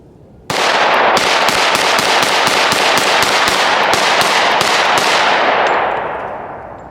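Rapid 10mm pistol shots ring out at a shooting range, an FN-510 or M&P 2.0, roughly a dozen loud sharp cracks fired in quick succession, close and echoing, with ringing reverberation trailing after the last shot.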